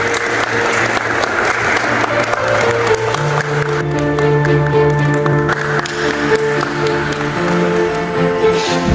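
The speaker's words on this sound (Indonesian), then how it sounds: "Beri tepuk tangan sekali lagi kepada" Applause at a high school re-enactment of the Second Youth Congress, clapping that runs through sustained musical tones and hum, the steady patter mixed continuously beneath droning notes for the full length.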